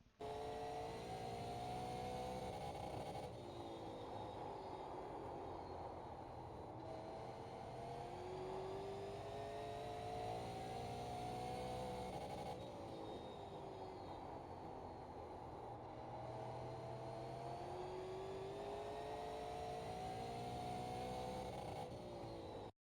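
A Super Late Model race car engine in iRacing, heard from the cockpit while lapping Thompson, drones loudly and continuously, revving up on straights and dropping as it slows for turns, several cycles in a row.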